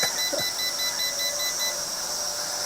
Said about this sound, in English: There, hear that beeping? Okay, it says I am near a wall.